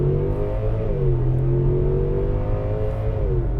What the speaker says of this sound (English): Go from a quick dig here, full throttle.